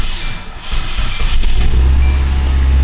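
A 2004 Hyundai Santa Fe engine cranks and catches close up, the starter whir building into a steady, deep idle rumble that holds loud to the end.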